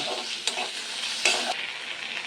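Chopped onion and tomato sautéing with chilli and turmeric powder in a pan, stirred with a few sharp scraping knocks over a steady close sizzle.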